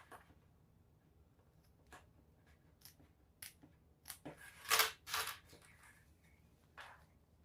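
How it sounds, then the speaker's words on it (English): Scissors snip the extra ends of a zipper while a sling bag is being sewn, a few faint scattered clicks, then a louder burst of close snipping cuts near the middle, with no talk. "now I'm just going to trim up these extra ends of the zipper"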